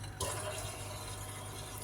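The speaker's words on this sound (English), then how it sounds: "Excuse my dishwasher" A kitchen dishwasher runs with sloshing, spraying water, a sudden surge of splashing after a short quieter start, then a steady, fairly faint wash.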